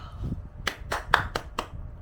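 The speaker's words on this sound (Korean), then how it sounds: "박수" A few sharp hand claps ring out indoors, about five distinct slaps spaced irregularly over two seconds, fairly close and moderately loud with a low murmur underneath.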